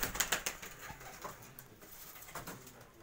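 Rooftop racing pigeons coo in a few soft throaty bursts, with light fluttering and scuffing nearby against quiet outdoor background.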